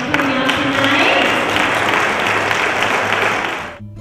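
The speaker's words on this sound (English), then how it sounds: "I want to give all of you guys a round of applause for coming out" An audience applauds at an evening gathering honoring Dr. King's legacy with LGBT leaders, dense steady clapping that stays loud for nearly four seconds before cutting off abruptly.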